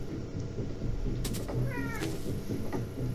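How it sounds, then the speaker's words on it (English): A house cat meows twice, a short call followed by a wavering, drawn-out one, close to the microphone over a constant background hum. "And that was our cat, Aisha."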